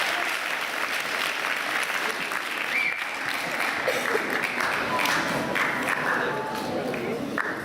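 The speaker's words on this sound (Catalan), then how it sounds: "volia que fes un aplaudiment al conjunt instrumental" An audience applauds an instrumental ensemble at a Christmas school concert, with steady, dense clapping filling the hall continuously and evenly throughout.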